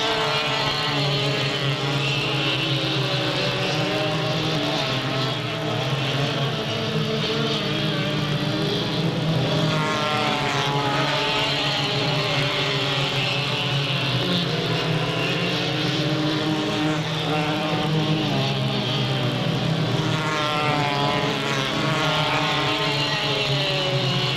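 Stock cars race at Delta Speedway in 1998 with a continuous, loud engine roar whose pitch swells and shifts as the pack passes, sustained throughout without a break.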